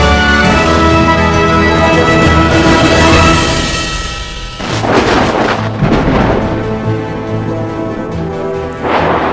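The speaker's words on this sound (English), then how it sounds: "There was a storm brewing on Sodor." Thunder rumbles and cracks in a storm on the island of Sodor, loud rolling booms that fade and return in several heavy bursts amid rain.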